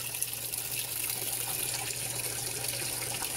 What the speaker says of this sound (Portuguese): Enchendo para o primeiro enxágue.